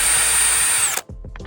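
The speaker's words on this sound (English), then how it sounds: "We're gonna drill this plastic again." A power drill bores through plastic in a loud, steady whine that cuts off abruptly, followed by a few faint clicks and handling noises.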